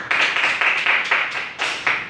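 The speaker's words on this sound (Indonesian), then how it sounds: "tepuk tangan kepada Yuli." Classroom clapping for a student in a teaching simulation, a few nearby people clapping in loose, rhythmic bursts, fairly loud and close, with no talk over it.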